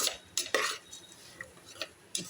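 A spoon scrapes and clinks against a metal pot while bisi bele bath powder is stirred in, giving a few sharp, close taps spread unevenly over a quiet background.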